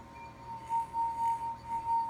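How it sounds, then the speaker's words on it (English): Wine glass singing as a wet finger rubs its rim, a steady pure ringing tone with a ping pong ball inside, holding at moderate volume with slight pulsing swells. "the noise is produced and the glass is vibrating."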